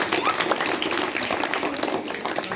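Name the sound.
audience applause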